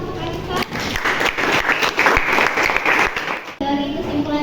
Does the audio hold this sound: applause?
yes